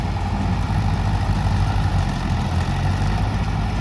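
A tractor engine runs steadily while pulling a super seeder for sowing wheat into straw, a loud continuous low diesel drone with no change in rhythm and no voices.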